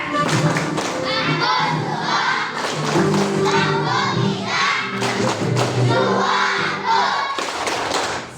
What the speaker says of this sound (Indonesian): Beri tepuk tangan untuk kita dulu nak